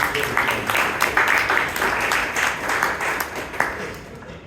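Applause from members at a Bangalore Toastmasters club meeting, a continuous wash of many hands clapping at fairly loud volume that holds steady and then gradually tapers toward the end.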